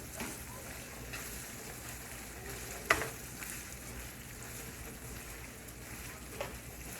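Ground beef browns in a pan for enchiladas, a soft continuous sizzle with a sharp utensil knock partway through, fairly quiet and with no speech.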